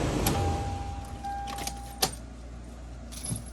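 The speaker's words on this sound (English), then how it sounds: "I'm gonna lay those keys on the seat." Car keys jangle inside a car during a front brake rotor and pad job, in a few short metallic clinking bursts spaced apart over a quiet background.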